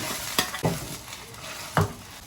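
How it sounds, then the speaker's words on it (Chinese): Celery hitting hot oil in a wok, with a few sharp sizzling bursts and stirring scrapes over a steady low frying hiss, close and fairly quiet. "先把芹菜炒下去"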